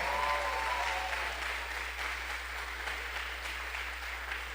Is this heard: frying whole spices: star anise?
no